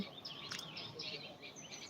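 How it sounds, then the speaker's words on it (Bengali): Faint birds chirp and twitter in short, high calls over a quiet outdoor background amid green countryside. "এই সবুজ প্রকৃতি পাখি কিচিরমিচির ডাক এগুলো শোনেন দেখেন"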